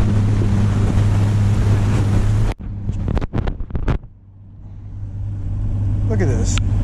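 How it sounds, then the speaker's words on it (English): A boat motor idling through a no-wake zone on a lake, a loud steady low drone with wind rush that cuts out abruptly, then a few knocks before the engine hum slowly builds back in. "So I'm gonna just idle back through there because this is all no wake"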